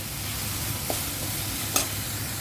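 Tomatoes fry in a pan as they are stirred, giving a soft, steady sizzle with a couple of light scraping strokes, fairly quiet and without talk.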